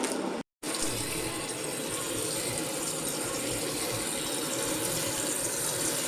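Water running steadily from a household tap in the morning, a constant close splashing rush with one brief cut and no voices.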